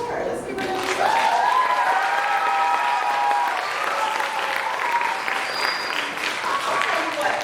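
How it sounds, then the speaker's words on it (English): A crowd at a Denver School of the Arts summer performance session applauds an award recipient, a loud, steady burst of clapping sustained throughout, with some voices mixed in. "Let's give her an applause."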